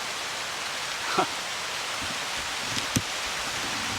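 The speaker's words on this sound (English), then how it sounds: "it's already started to rain" Steady rain hisses evenly throughout on a nature walk, a broad soft wash with a few faint taps and drips standing out now and then.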